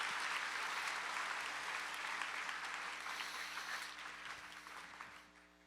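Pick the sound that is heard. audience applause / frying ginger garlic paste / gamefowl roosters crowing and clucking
audience applause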